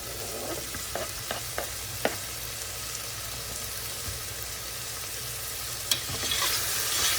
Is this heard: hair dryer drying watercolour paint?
no